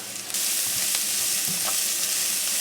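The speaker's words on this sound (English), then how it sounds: "So we'll stir our spices in" Onions fry in a pan with spices of salt, garam masala and turmeric stirred in, giving a loud steady sizzle that starts abruptly and carries a few soft spoon scrapes, with no speech.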